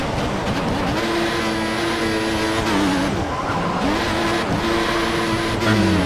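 An F1 car in the F1 2014 racing game rolls into the pit lane, its engine note rising and falling through gear changes with brief tire squeal, loud and continuous with no talk.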